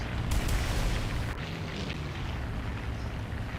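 Rockets fire from a German plane in the War Thunder video game, heard as a dense, rumbling stream of booms and bursts with a few sharp pops near the start, loud and continuous.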